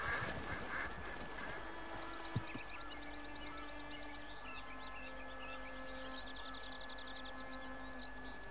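Ducks quacking in the video game Red Dead Redemption 2, a run of rapid nasal quacks sounding mid-distance over a quiet outdoor ambience with faint tonal hums, no speech.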